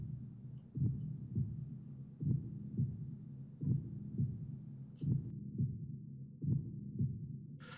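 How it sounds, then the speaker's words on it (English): A steady, muffled heartbeat effect from the video game Tecmo's Deception thumps in paired low beats about every second and a half over a soft hum during a save. "I do like the atmospheric effect of the heartbeat while the save file is taking away, though."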